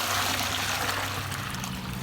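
Water pours steadily into a planting hole dug in poorly draining black gumbo soil while a bare-root tree is planted, a continuous close trickle and splash without pause.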